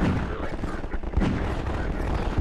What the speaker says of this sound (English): Got the hand cannon.